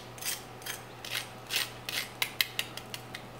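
Crispy oven-roasted chicken skin, cooked under a brick, crunching close up: several soft crackly bursts followed by a run of sharper, louder crisp crackles, alone in a quiet room.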